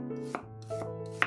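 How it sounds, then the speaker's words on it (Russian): A kitchen knife cuts red onion into half-rings on a board for pizza topping, giving three crisp chops spaced about half a second apart over steady background music. "Красный лук разрезаем пополам и нарезаем полукольцами."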